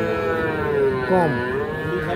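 A bull calf at the Ambari cattle market lows in a drawn-out, close moo that bends in pitch, with a brief spoken word from a man nearby.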